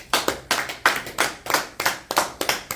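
A church congregation claps in unison, close and lively, in a quick, steady rhythm of loud, even hand claps with no voices over them.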